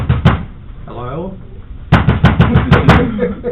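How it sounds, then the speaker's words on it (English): Knuckles rap on a door in a short burst of quick, close knocks after someone speaks, forming a clear rhythmic series of sharp raps. "it's called door knocking"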